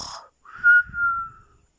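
A storyteller's voice imitates a sleeping father: a short breathy snore-like rasp, then a clear, sustained whistle that slides and fades, close and alone.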